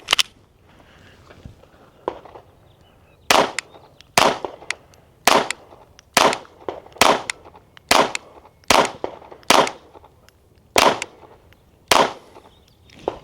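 SIG Sauer P322 .22 pistol fired for zeroing, about ten to twelve crisp, sharp pops spaced roughly a second apart after a couple of quieter early shots, with no talking.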